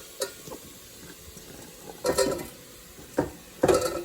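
Onions and red peppers drop into a hot pan for a quinoa, red bean and smoked chili gumbo, giving a few short bursts of sizzle and clatter as they are stirred, with quiet gaps between them.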